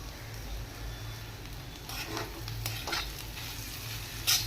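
Onion and potato being stirred together in a hot pan, a soft continuous sizzle with scraping, clattering strokes of the spoon close by, no voices.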